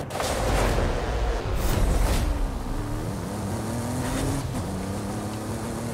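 Maserati engine in a racing video game, loud sustained roar with rising and shifting revs as the car accelerates, heard alone without talk.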